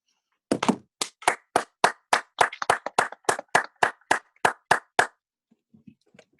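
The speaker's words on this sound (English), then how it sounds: "y'all give a round of applause" A classroom of students gives a round of applause: about fifteen sharp, evenly spaced claps in a steady rhythm, loud and close, then trailing off into near silence with a few faint taps.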